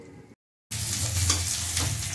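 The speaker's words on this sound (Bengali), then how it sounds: "আর এখন যে আলুটা সেদ্ধ করলাম ওই আলুটা এখন ভেজে নিচ্ছি" Boiled potatoes hitting hot oil in a pan for chicken biryani, a brief silence then a loud, dense crackling sizzle that starts abruptly and holds steady, close up with no talk.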